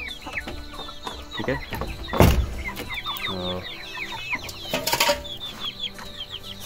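Several pet birds clucking and squawking while eating their feed, with repeated short calls, a couple of louder bursts and wing flutters, fairly close, and a brief spoken word in between.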